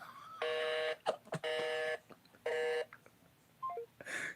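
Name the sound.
telephone dialing tones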